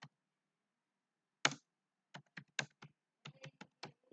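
Keys tapped one at a time on a computer keyboard, sparse crisp clicks in near silence: a lone stroke, a pause, then a quick irregular run of about a dozen presses.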